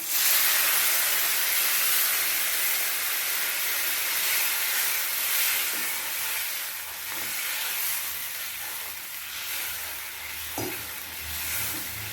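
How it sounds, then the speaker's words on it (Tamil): Tamarind water goes into sautéed chilli powder, coriander and cumin powder for a vegetarian fish curry (saiva meen kuzhambu). A continuous sizzling, steaming hiss simmers at close range, with faint stirring knocks and a sharper clatter near the end. "மிளகாத்தூள், மல்லி, சீரகத்தூள்லாம் நல்லா வதங்கிட்டு இந்த நேரத்தில் நம்ம கரைச்சி வச்சு புளி ஊற்றலாம்"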